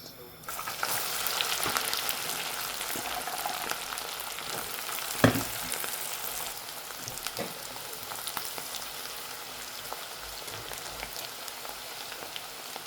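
Dried Bombay duck fish sizzles steadily in hot oil, a constant crackling hiss with one sharp clink partway through, near and fairly loud, with no talking.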